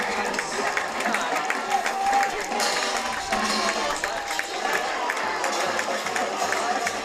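A high school varsity football crowd roars and applauds as the Deerfield Warriors run onto the field, a loud, sustained wash of cheering and clapping with a commentator talking over it.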